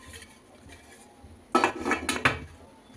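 Metal idli plates clatter into a steel idli steamer pot and the lid clanks shut, a quiet pause followed by several loud, close metallic clinks and knocks.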